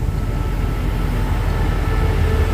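A red locomotive hauls a train of JR coaches on a running test toward Chiang Mai, producing a continuous loud, close rumble with a deep low-end drone throughout.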